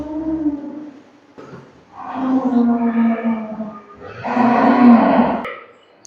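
Dairy cows low on a farm in Domar, Nilphamari: several long, deep moos close by, one after another, with brief quiet gaps between them.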